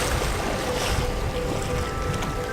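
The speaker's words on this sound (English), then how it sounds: "we're sailing up the channel between Ithaca and Cephalonia" A sailing boat moving up the channel between Ithaca and Cephalonia in a 12-knot southeasterly, steady rush of wind and water with heavy wind buffeting on the microphone.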